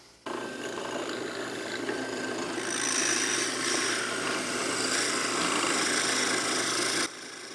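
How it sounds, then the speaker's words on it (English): A drill with a 9/32 bit boring into a wooden dowel, a steady whirring, rasping grind that runs for about seven seconds and grows louder midway, with no talking. "Now I'm going to be drilling into this dowel, and that is for the pencil, and I'm going to use a 9/32 drill bit."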